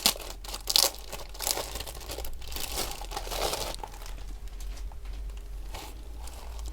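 Plastic pouch holding a brown scalloped sticker album being opened, with loud crinkling and tearing bursts at first, then softer steady rustling of the packaging up close.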